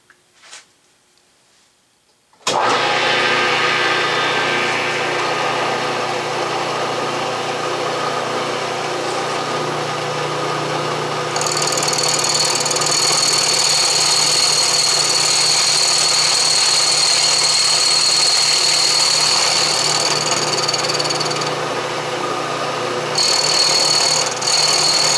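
A milling machine cutter machines a part for a Stuart model steam engine, a steady loud motor hum with a rising high-pitched cutting whine in the middle and again near the end, after a brief quiet start.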